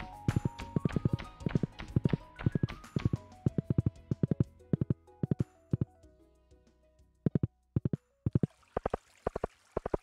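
Horse hooves clip-clop steadily in the farming game Stardew Valley, a quick run of sharp, close footfalls with short gaps and a few pauses, no voices over them.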